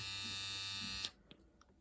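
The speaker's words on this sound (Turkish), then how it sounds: "Beard trimmer, profesyonel hair clipper." A cheap professional-style beard trimmer and hair clipper hums at a steady, close, high-pitched buzz for about a second, then switches off, leaving a few faint clicks of handling.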